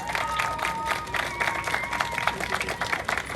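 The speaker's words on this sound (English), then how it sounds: "So give them all a big round of applause." A crowd at an outdoor community street event claps for elected officials, a steady bed of clapping with scattered cheers that holds at an even level throughout.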